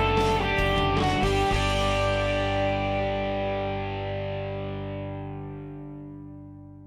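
Electric guitar with extreme heavy overdrive, as on a song intro: a few thick, distorted chords struck and then left ringing in a long, slowly fading sustain, loud and alone.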